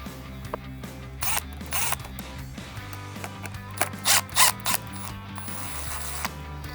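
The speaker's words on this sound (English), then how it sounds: "each arm pad has 4 screws. I'm going to start by removing the 2 in the front." Arm pad screws on an office chair being backed out with a T20 bit, quiet ratcheting clicks and a few short whirring bursts of the driver, close by with a low hum beneath and no speech.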